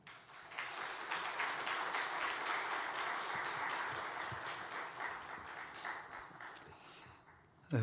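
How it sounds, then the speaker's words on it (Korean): Congregation at a military university church welcoming a guest pastor with applause, a sustained crowd of clapping hands that swells quickly, holds steady for several seconds and then fades out. "환영의 박수로 함께 맞이하도록 하겠습니다."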